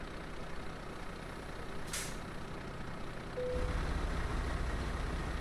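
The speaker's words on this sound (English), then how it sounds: "Oh, I did put the handbrake on." An air brake hisses once on a truck in Euro Truck Simulator 2 as the handbrake is set, a short burst over a steady low engine idle that grows louder and rumblier afterward.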